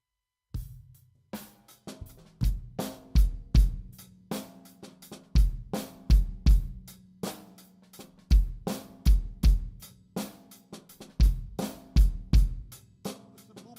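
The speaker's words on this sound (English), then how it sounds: "Let's try the groove nice and slow so you can hear it inside with the bass drum too." A slow drum groove plays alone: deep bass drum thumps and snare hits in a steady pattern with ticking hi-hat, close and clear.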